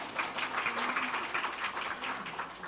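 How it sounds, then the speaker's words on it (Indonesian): An audience at a Christmas carol concert claps in sustained applause, moderately distant and even, with no speech over it. "Boleh tepuk tangan."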